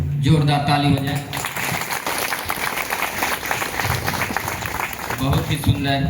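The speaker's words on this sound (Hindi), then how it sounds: "जोरदार ताली हो जाए।" A church congregation breaks into loud, sustained applause during a Father's Day service at a minor basilica, filling the room for several seconds with dense clapping, while talk and music sit underneath at the start and end.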